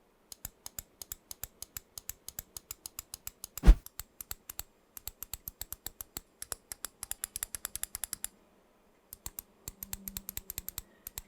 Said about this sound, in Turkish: Tıklama sesleri bana biraz tok geldi. Omron switchleri tanıyabilirsiniz bu seslerden.